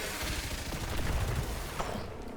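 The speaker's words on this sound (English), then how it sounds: "Satisfying bit of explosion over there." Explosive blasts and rapid gunfire-like bursts rumble through combat in the video game Warframe, a dense loud roar peaking midway, with no talking.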